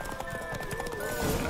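Horse hooves clip-clopping in a steady rhythm with a whinny, from the video game The Witcher 3, heard close and fairly loud with a faint voice underneath.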